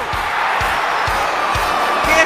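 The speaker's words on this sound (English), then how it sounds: "The crowd are going wild." Crowd cheers loudly and continuously in a football stadium setting, a dense roar of voices with regular low thumps underneath like drumbeats.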